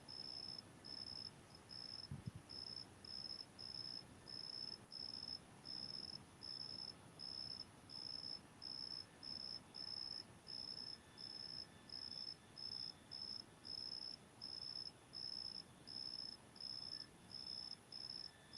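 A cricket chirps at night in steady, evenly spaced pulses, a continuous high trill that repeats for the whole stretch over faint background hiss, fairly distant and soft.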